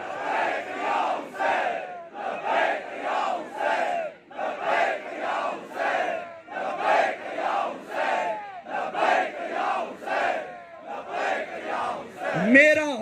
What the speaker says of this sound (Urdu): دونوں بازو بلند کر کے مل کے 5 مرتبہ بولیے لبیک یا حسین